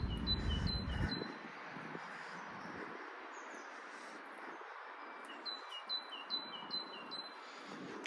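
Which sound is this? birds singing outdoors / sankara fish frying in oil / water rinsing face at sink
birds singing outdoors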